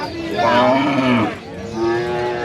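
A Friesian dairy cow at a busy cattle market lows loudly and close, one long moo that falls then rises into a second shorter call, with crowd murmur behind.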